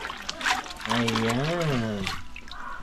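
Cassava leaves are washed in water, with a light trickle and splashing heard close under a person talking.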